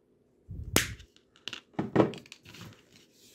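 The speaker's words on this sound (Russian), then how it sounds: "Лишнее откусываем." Cutters snip off excess wire on a handmade foam fishing lure: one sharp close snap, followed by a few softer clicks and rustles of handling.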